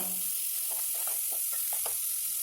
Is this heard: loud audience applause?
no